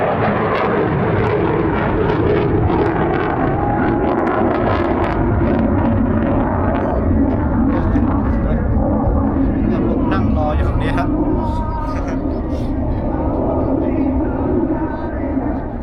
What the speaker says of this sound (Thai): คุณได้ยินเสียงเครื่องบินนะฮะ เดี๋ยวทางทัพอากาศสหรัฐเนี่ยเขาจะมีเครื่องบินบินตลอดเลยฮะ